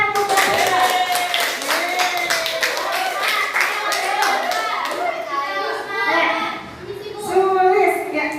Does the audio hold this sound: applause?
yes